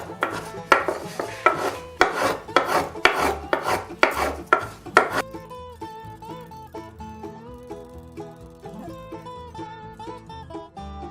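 A file rasps against wood to taper it, loud close strokes in a steady back-and-forth rhythm for several seconds, then gives way to music.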